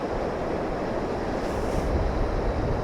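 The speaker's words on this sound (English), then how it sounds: "the volume of water coming in hitting a feature on the beach, it just crashes on." Waves roll and crash onto a beach at Moggs Eye as the tide comes in during sea fishing; a loud, continuous wash of surf with wind noise on the microphone, swelling slightly toward the end, no voices.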